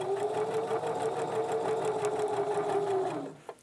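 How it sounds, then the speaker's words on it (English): Sewing machine running steadily while stitching a lined zipper pouch, a continuous close whirring hum with rapid needle ticks for about three seconds before stopping abruptly, followed by a couple of small clicks. "I'm going to start sewing at that point."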